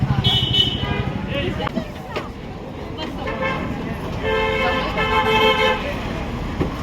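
An auto rickshaw running on a busy road in Shegaon, with repeated horn toots, traffic rumble and engine noise close by, and people chatting over it.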